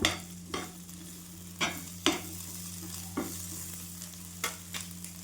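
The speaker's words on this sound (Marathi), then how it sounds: "आता आपल्याला हिरवी मिरची घालून घ्यायची हे पण छान परतून घेऊया" Green chillies fry in a pan for a homemade spicy chutney, with a low sizzle broken by sharp, irregular spatula scrapes and knocks about once a second over a faint steady hum.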